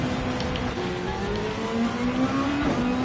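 A race car engine drones and rises under throttle on a lap of Fuji International Speedway in Gran Turismo 7, with a steady whining tone that climbs gradually, heard alone.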